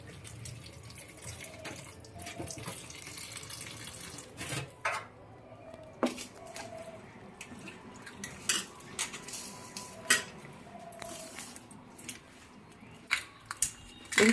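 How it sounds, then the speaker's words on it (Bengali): Jujube plums rubbed and washed by hand in a bowl of water, with splashing, sloshing and faint clinks of a metal dish coming in uneven bursts, close by and moderately quiet. "এবার কুলটা ধুয়ে নেব জল দিয়ে ভালো করে কচলে ধুয়ে নিতে হবে কুলগুলোকে"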